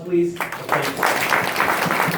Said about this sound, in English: And then one more round of applause,